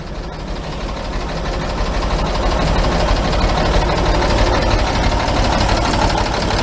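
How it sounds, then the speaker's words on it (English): A 1941 Chevy engine with freshly welded exhaust idles continuously, warming up, with a low rumbling drone and a fine mechanical clatter, holding at an even loudness throughout. "Let the engine run."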